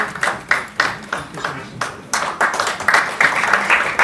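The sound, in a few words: audience applause for a musician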